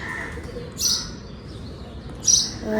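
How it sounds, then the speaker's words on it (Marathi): Two short bursts of high bird chirping, spaced about a second and a half apart, over a soft, quiet outdoor background. "पक्षी असे चिवचिवाट पक्ष्यांचं चालू आहे."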